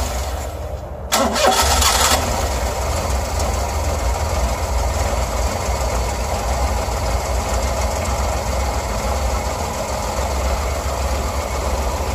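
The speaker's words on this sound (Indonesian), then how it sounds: "Lalu mesin akan saya nyalakan." A Daihatsu Ceria car engine with an overheating problem cranks briefly and catches, then settles into a steady, loud idle that runs on without a break.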